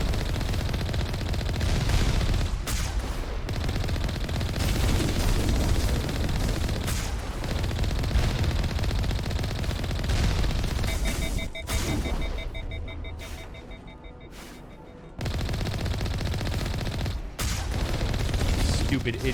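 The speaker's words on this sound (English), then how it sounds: "Stupid idiot Geth Colossus shooting into that hill." A Geth Colossus in Mass Effect pours out sustained heavy fire, a dense rapid barrage of loud shots and booms that runs almost continuously, thins briefly, then resumes, with a voice talking over it.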